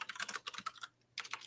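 Quick bursts of computer keyboard typing in bursts of close keystrokes, a brief pause near the middle before the clicking resumes, with no voices.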